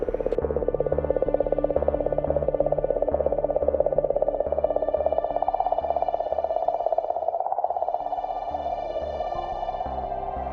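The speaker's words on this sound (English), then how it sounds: "comet that seems to be emitting a song" Sonified oscillations from Comet 67P recorded by Rosetta's RPC instrument, heard as a continuous clicking, warbling tone pulsing rapidly and steadily, rather like a croaking frog or sonar ping, drifting gently in pitch.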